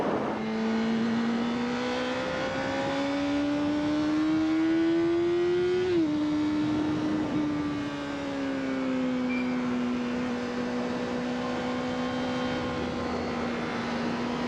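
A Honda race car on an out lap around a track, its engine droning steadily with a rising and falling pitch as it shifts through gears, loud and close throughout with no talking.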